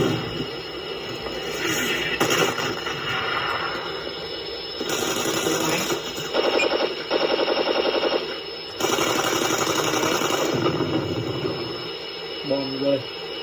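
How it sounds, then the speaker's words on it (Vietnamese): Tank cannon blasts from a video game sound pack played through a Beier SFR-1-D sound module, several loud booming bursts with rumbling tails alongside machine noise, heard close with no talking. "đại bác bắn."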